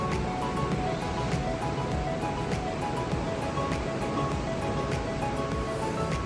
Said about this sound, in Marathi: खूप मस्त समुद्र जरा खवळलेलो